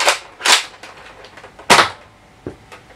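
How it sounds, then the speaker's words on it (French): A Nerf Modulus Battlescout plastic blaster being loaded and primed, giving a few sharp plastic clacks and clicks spaced irregularly, two of them louder and close by, with quieter rattles between them. "quand je vais charger, le chargeur va se décaler vers la gauche."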